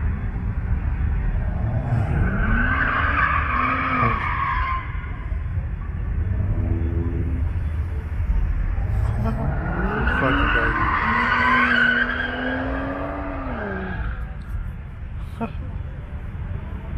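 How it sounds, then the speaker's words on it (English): Several cars drifting in a circle, with long tire squeals rising and sliding under engine roar in two loud bursts, heard from nearby while people talk over the noise. "they got a whole drifting circle going on"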